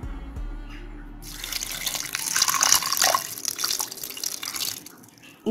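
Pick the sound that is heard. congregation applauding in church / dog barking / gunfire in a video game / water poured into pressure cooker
water poured into pressure cooker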